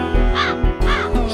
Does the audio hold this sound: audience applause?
no